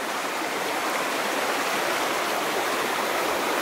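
Creek water rushing steadily over rocks in a forest near an old gold mine, a continuous broadband flow, loud and close, with no voices.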